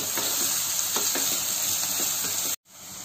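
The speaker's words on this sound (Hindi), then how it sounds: "अब इस प्याज को हमें इसमें तब तक भूनना है तब तक जब तक कि ये ब्राउन कलर ना ले" Steady, loud sizzling of onions frying in a pan until brown, a continuous hiss with faint stirring scrapes, cutting off abruptly near the end.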